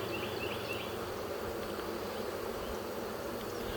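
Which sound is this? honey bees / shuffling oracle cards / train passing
honey bees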